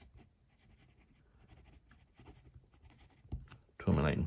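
A Lamy Scala fountain pen with a steel medium nib scratches faintly across paper in soft, quiet strokes, and a voice speaks briefly at the end.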